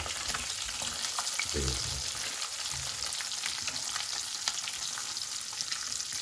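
Fish pieces fry in hot oil with a steady, dense sizzle throughout, and a brief low clatter of handling comes near the start; no voices.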